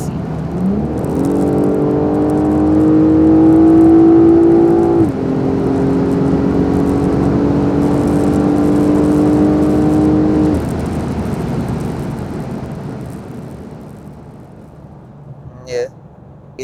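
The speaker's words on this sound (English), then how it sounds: "Then you can start hearing the engine and the transmission and all that. So you hear it downshifting on its own." A BMW 8 Series engine hums steadily, its pitch climbing and then dropping in clear steps as the automatic transmission downshifts on its own, with a brief click near the end.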